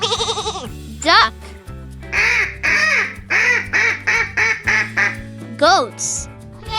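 A duck quacking in a quick series of short, clipped calls, close and clear above soft children's backing music.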